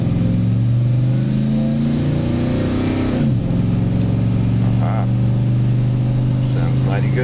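Vehicle engine revving heard from inside the cab, a steady loud low drone that dips and climbs again midway, with muffled cabin resonance and some faint voice sounds toward the end.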